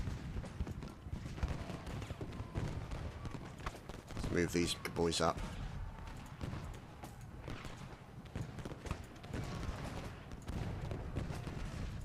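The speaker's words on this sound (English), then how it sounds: "Just devastating cannon fire coming in." Cannon fire in the Civil War strategy game Ultimate General: Gettysburg, during a Confederate battle: a burst of rumbling booms and crackling volleys rises midway, set against constant battle noise and hoof-like clatter while someone talks throughout.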